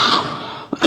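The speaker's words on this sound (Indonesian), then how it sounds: "mohon maafin lagi batuk ini" A single short cough bursts out partway through, followed by breath, in the reverberant hall of a mosque during a spoken sermon.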